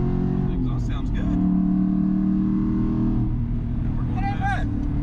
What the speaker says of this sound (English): The exhaust sounds good.